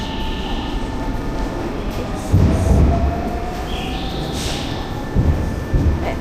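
A train pulls into a station in Japan on a freezing winter day, a steady rumbling roar with a brief low surge of wheel and rail noise partway through, heard close by with no talking.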